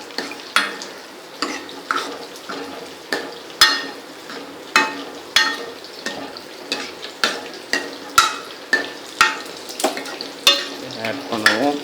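A spoon scrapes rhythmically around a pan of simmering fish masala kulambu with tamarind, roughly one sharp stroke per second over a quiet bubbling sizzle, close and clear with no talking.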